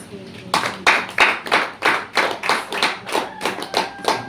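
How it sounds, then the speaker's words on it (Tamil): A church congregation claps hands in a steady rhythmic beat, about two claps per second, loud and close, carrying on for several seconds with voices faintly underneath. "கை தட்டி கர்த்தரை மகிமைப்படுத்துங்க."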